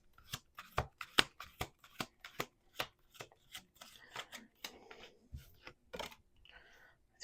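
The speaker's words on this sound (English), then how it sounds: "We're going to do two more shuffles." Tarot cards being shuffled by hand, a quiet series of crisp riffles and soft slaps in an uneven rhythm, close up and faint.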